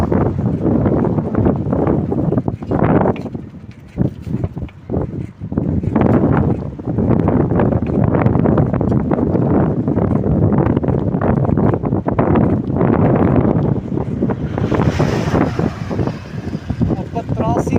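Strong wind sweeps across an open beach, buffeting the microphone in a continuous, heavy roar with gusting surges for the whole stretch.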